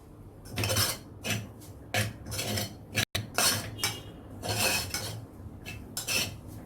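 A spoon scrapes and clinks against a bowl while homemade furikake with flaked tuna and pepper is mixed, in steady rhythmic strokes with brief pauses.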